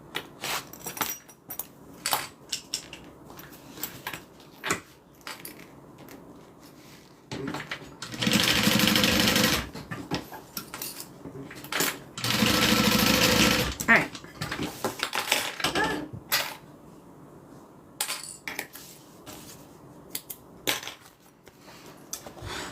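A sewing machine stitches fabric pieces for a bag, running in two loud sustained whirring bursts between stretches of clicks and handling noise, with a voice speaking faintly at times.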